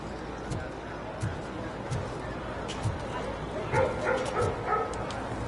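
A dog in the video game Robocop: Rogue City gives several short, moderately loud barks and yips in an irregular rhythm over a steady game background, with someone talking faintly alongside.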